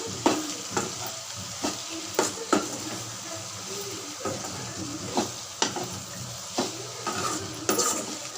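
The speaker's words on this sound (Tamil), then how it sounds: "வெண்டைக்காய் சேர்த்தாச்சுங்க. நல்லா கலந்து விட்டுக்கோங்க." Chopped okra sizzles and fries in a pan while a spoon stirs it, with periodic sharp scrapes and knocks against the metal over a constant hiss.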